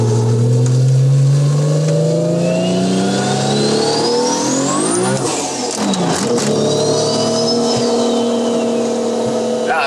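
A 1000 hp car at full throttle on a racetrack roars loud and close, revs climbing to a high scream, then dropping and climbing again as it shifts through gears.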